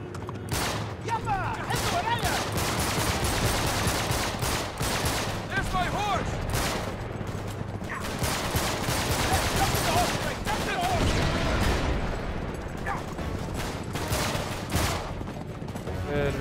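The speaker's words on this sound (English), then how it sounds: "somebody's shooting them" Sustained gunfire from the video game Uncharted: Drake's Deception, a dense fusillade of rapid shots with bursts of automatic fire running throughout, loud and continuous, with voices talking over the shooting.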